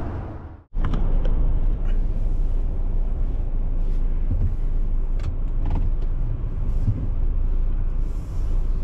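A 2023 Ford Transit Connect XL long-wheelbase wagon van driving on the road. A steady low engine and road rumble fills the cabin after a brief cut, with a few faint clicks and thumps, and no talk.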